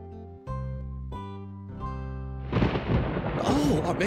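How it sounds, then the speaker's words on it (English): Steady musical tones give way to a sudden loud rumble of thunder that rolls on and fills the rest of the clip. "That sounds like a storm. Was that thunder?"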